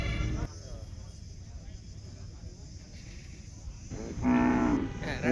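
Cattle low at a dusty tethering ground during the Kannapuram Mariamman temple chariot festival, with one loud, close moo rising near the end over murmuring voices.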